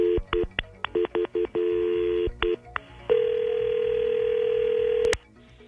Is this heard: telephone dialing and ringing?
yes